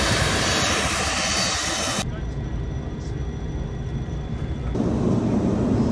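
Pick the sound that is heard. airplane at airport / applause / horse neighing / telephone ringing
airplane at airport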